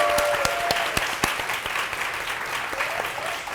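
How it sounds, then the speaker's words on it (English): A room of people breaks into applause, with sharp individual claps standing out at first before the clapping gradually thins. "Please give them a round of applause."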